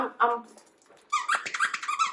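A dog's plush toy, an octopus-shaped squeaker, gives a run of short, high squeaks. Before the squeaks a person speaks over it, and the squeezes keep coming close to the listener.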